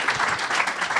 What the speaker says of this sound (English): Please, Representative Don Beyer, give him a round of applause